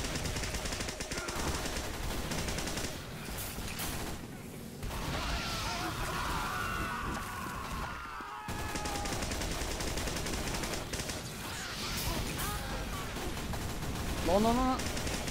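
Rapid bursts of Blutsauger syringe gun fire in Team Fortress crackle through a busy match, dense and continuous with game noise and brief gaps.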